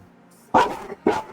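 Dogs bark indoors, two sharp loud barks a half second apart, close by and with no speech over them, preceded by a faint high whine.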